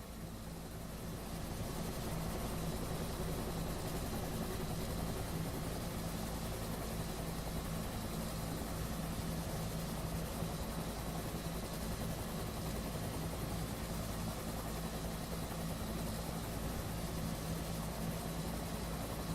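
A helicopter in a military flight simulator carries a troop insertion, its rotor and engine droning steadily and loudly throughout with no voices.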